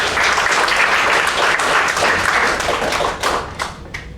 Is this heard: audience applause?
yes